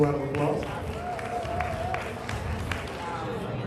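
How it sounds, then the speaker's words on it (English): An audience applauds and cheers at a Black Excellence Night gathering, steady clapping mixed with crowd noise and scattered voices at moderate volume, with talk running underneath. "Let's give her a round of applause."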